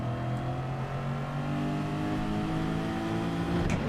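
A car engine in Gran Turismo 7 holds a steady, loud droning tone throughout, with the pitch shifting slightly as the throttle is worked. There are no voices.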